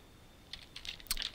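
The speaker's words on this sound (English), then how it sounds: "We do that just by typing in equals" Computer keyboard typing while entering an Excel VLOOKUP formula: a few quiet, scattered key clicks building into a brief burst of faster, sharper taps near the end, close and with no voices.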